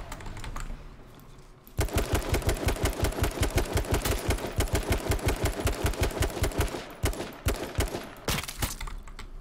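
Rapid, steady gunfire in H1Z1 rings out close and loud as a long string of evenly spaced shots. A few slower, separated shots follow.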